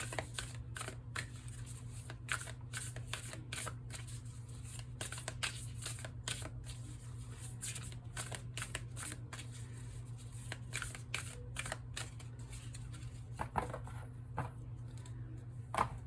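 A tarot deck is shuffled and cut by hand, giving a run of quick, crisp card riffles and snaps that are close and continuous throughout, with no talking.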